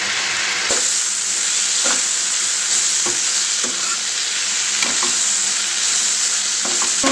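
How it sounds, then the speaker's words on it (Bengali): Potatoes and onions fry in a pan with a steady, close hiss and sizzle, broken by sharp clinks and scrapes of stirring every second or so. "দেখো আলু আর পেঁয়াজ ভাজা করব"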